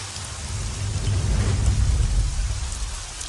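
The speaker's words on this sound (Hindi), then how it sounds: "और बारिश भी क्या मस्त मौके पे आया रे" Heavy rain pours steadily while a low, deep thunder rumble swells and fades through the middle, loud and close, with no voices.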